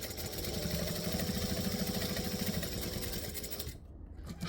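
Domestic sewing machine stitching fabric, a fast steady mechanical whir with rapid rhythmic needle ticking close by, stopping abruptly near the end.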